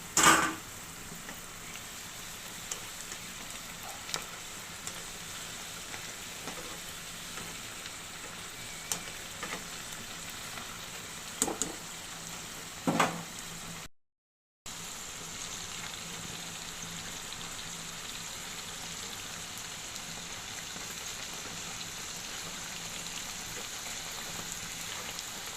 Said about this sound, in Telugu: ఇప్పుడు మనం ఇవి డీప్ ఫ్రై చేసుకుందాం.